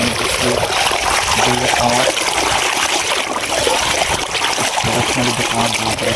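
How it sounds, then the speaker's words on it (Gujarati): Borewell water pours and splashes in a steady, loud, close stream, continuous throughout with a faint voice in the background. "આ છે અમારા બોરનું પાણી"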